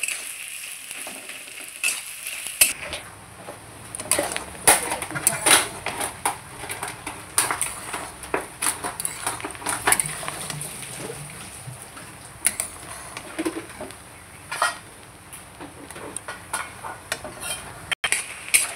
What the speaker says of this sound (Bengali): আমি পেঁয়াজটা খুব সুন্দর করে ভেজে নেব, সোনালি কালার যতক্ষণ না হয়েছে পেঁয়াজটা ততক্ষণ আমি ভেজে নেব খুব সুন্দর করে